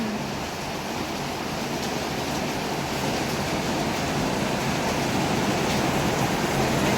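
Heavy rain from Typhoon Kristine pours down in a steady, dense roar, loud and unbroken throughout with no voices over it.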